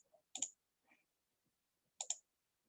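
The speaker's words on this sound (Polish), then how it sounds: "Nie działa, klikam w nim. Nie wiem, czy klik słychać" Mouse clicks in the browser strategy game Forge of Empires: two quick double-click bursts about a second and a half apart, sharp and close, with a faint softer tap between them in an otherwise quiet room.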